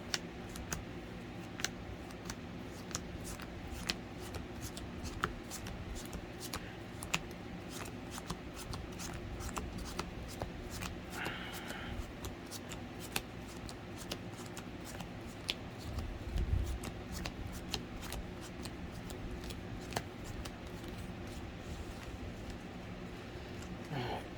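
A Dogmatika Gravekeeper's deck of trading cards is shuffled steadily for a long stretch, a dense run of soft riffling clicks close by, with faint background noise and a brief burst of talk.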